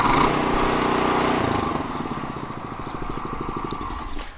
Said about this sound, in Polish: Jednocylindrowe benzynowe silniki, dzięki temu, że mają odprężnik, bardzo łatwo się odpala.